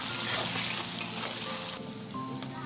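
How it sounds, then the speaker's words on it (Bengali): Mixed vegetables with ginger paste sautéing in a pan for a vegetarian dal, a soft, steady sizzle with light stirring, fairly faint and close. "দিয়ে দিচ্ছি 1/2 চামচ আদা বাটা দিয়ে আরেকটু কষে নেব।"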